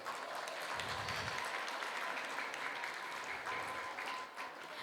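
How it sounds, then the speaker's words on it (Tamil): Sustained applause from the audience at a graduation ceremony, a dense steady clapping that holds throughout and eases slightly at the very end. "ஒரு பெரிய கைத்தட்டல்"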